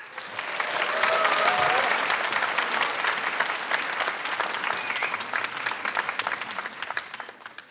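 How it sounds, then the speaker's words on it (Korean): A lecture audience claps to welcome a university professor onto the stage, dense applause swelling within the first second and holding steady before thinning out over several seconds. "큰 박수로 우리 멋진 교수님을 모셔보도록 하겠습니다."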